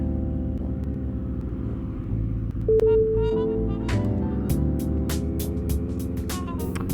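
Car engine rumbling close by in rainy street traffic, a steady low drone that rises as the vehicle passes, with a brief tonal squeal midway and sharp crackling spatter later on.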